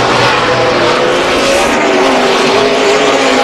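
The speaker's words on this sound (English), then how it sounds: "He's now making his stop. 4 tire change expected for Jeff Gordon and a chassis adjustment" A NASCAR stock car roars away from pit road after a four-tire change and chassis adjustment, its engine loud and sustained with a rising, straining pitch, filling the whole stretch without commentary.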